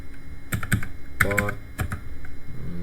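Computer keyboard typing of a switch port command in a network configuration session, a few quick clustered key clicks in bursts with pauses, close and crisp, no talking.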